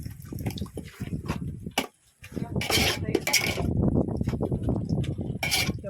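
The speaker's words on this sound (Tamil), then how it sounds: "தயிர் ஊத்துற." Curd poured into a dish during home cooking for a Ramzan feast, a soft liquid glug and splatter with clinks of utensils against pots, close and moderately loud, with a short silent gap partway through.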